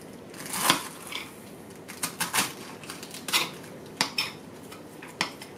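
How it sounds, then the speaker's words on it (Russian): Irregular sharp knocks and clinks of a knife chopping salad on a board come in uneven bursts with short pauses between them. "Ну, теперь нарезаем салатик."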